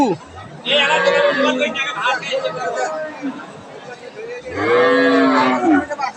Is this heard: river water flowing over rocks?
no